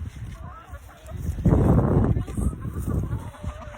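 Chickens on a farm clucking and scratching as feed is spread, soft overlapping clucks and rustling close by, with a louder burst of activity midway.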